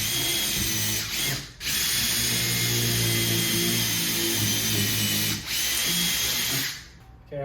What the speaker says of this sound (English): pre-drill 1/8 of an inch hole so these lag bolts don't crack the 2x4 stud